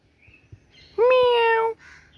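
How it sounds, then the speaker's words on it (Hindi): A cat clinging to a thatched hut roof gives a single loud, drawn-out meow lasting under a second, close by, with quiet background noise before and after. "वही बिल्ली को देखो, कैसे चिपकी पड़ी है झापड़ी पे। म्याऊ"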